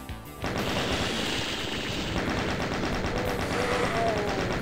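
Chaingunner enemies in a Doom map fire without pause, a dense, loud barrage of rapid overlapping machine-gun shots that covers the whole stretch.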